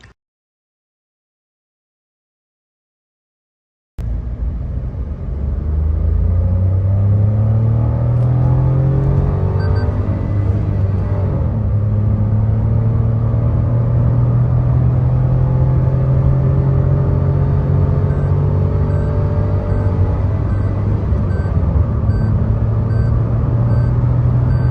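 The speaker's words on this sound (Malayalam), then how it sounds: "ആളില്ലാത്ത ഒരു സ്ഥലത്ത് ഞാൻ ത്രോട്ടിൽ കൊടുക്കുന്നൊരു വീഡിയോ ഞാൻ ഇതിൻ്റെ കൂടെ ആഡ് ചെയ്തേക്കാം" A modified car's engine revs hard at full throttle after a brief silence, rising in pitch and then holding a loud, sustained roar close by, with no talking.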